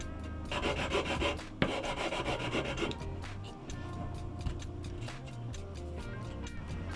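Rough, rhythmic rasping of a blade shaving protruding wood filler flush on a bass guitar body, close and steady, with a sharp knock partway through and short strokes toward the end.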